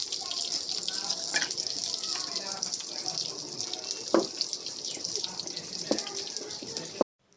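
Hot water poured into boiled lentils over a clay stove makes a running, splashing flow with a few sharp knocks and clatters, moderately close, then cuts off abruptly near the end.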